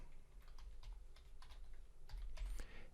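Keys clack on a computer keyboard as a composition name is typed in Adobe After Effects, a quick close run of light taps with no speech.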